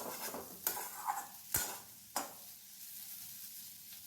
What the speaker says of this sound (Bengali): কন্টিনিউ খুন্তি দিয়ে ভালো করে নাড়াচাড়া করতে হবে